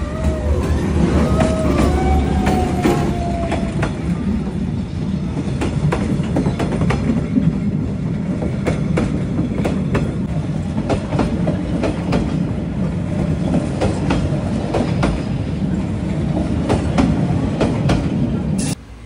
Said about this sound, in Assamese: এতিয়া চাওক এখন ট্ৰেইন আহিছে এইখন ট্ৰেইনখন চাওক